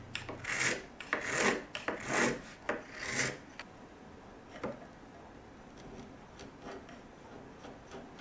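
A file rasps across a wooden inlay on a classical guitar bridge, several quick strokes up close, then quieter, sparser scraping.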